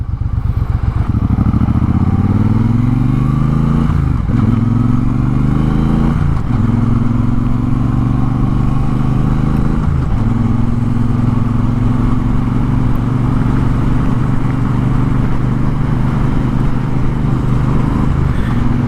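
A 2022 Triumph Bonneville Bobber motorcycle is heard while riding, its engine droning loud and close throughout, rising in pitch through several gear changes and settling into a steady cruise.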